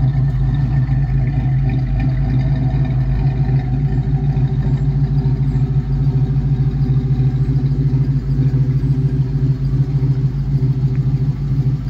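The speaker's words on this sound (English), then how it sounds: "Nice sounding exhaust." A 1966 Ford Mustang with an aftermarket exhaust idles close by, a loud, steady deep rumble with a lumpy low throb that runs unbroken throughout.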